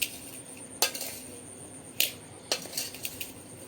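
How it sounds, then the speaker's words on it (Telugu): Mango pieces for avakaya pickle being tossed with salt and chili powder, giving a few sharp clinks and scrapes of a spoon against a steel vessel, spaced apart over faint background hiss. "ఇప్పుడు ఇవన్నీ కూడా ఈ ముక్కలకి ఉప్పు కారం పట్టేలాగా ఒకసారి కలుపుకుందాము"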